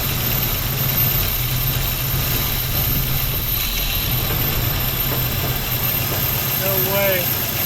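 A 1968 Ford Mustang V8, left sitting for 30 years and kept running on carb cleaner, idles with a steady low rumble up close, a continuous drone with faint higher noise near the end.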